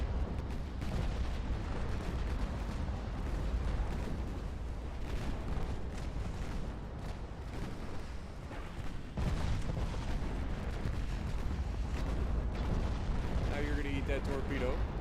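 Heavy naval gunfire rumbles throughout a warship battle in the game Ultimate Admiral Dreadnoughts, with dense booms and continuous low roar, and a voice talking over it.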